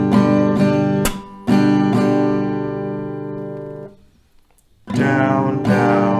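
An acoustic guitar plays a strumming pattern of downstrokes with a sharp percussive clap among them, ringing chords between, a brief silence, then the strumming resumes close and loud.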